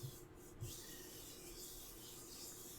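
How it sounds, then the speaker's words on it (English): Palms rubbed together gently in small circles make a faint, close, continuous soft swishing, quiet and steady with no talk. "only rub the palms together in small, gentle circles"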